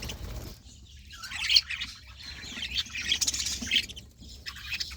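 Several newly adult pet birds squawk and chirp in short bursts nearby, mixed with brief fluttering of wings, loudest around the middle.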